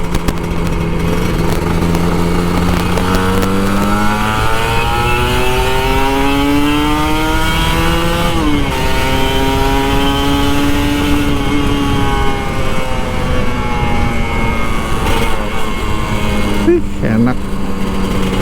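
Kawasaki Ninja RR 150 motorcycle engine revving in steady light throttle while riding through Jakarta traffic, a continuous close engine drone with rising and falling pitch sweeps over wind noise.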